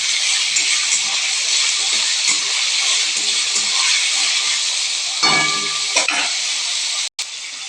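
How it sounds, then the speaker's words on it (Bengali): Chopped capsicum for fried rice made with local rice is stirred in a hot frying pan, giving a loud, constant close hiss with a brief clatter of the utensil near the end. "ক্যাপসিকাম কুচি, এগুলো এখন আমি নেড়ে চেড়ে নেবো একটু।"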